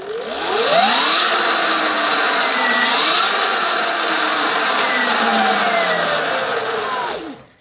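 A Sur Ron BAC2000 electric dirt bike motor is given a throttle test, its loud whine rising and falling in pitch through several sweeps before cutting off sharply at the end.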